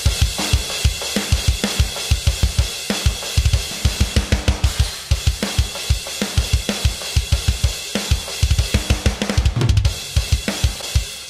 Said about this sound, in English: So we got our drum kit and we got our drum layer sounds.